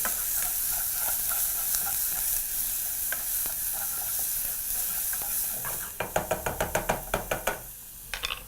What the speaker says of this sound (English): proceed to add to your pan and proceed to mix through